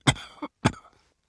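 Two sharp, close coughs about half a second apart, each a harsh burst with a short tail, followed by silence.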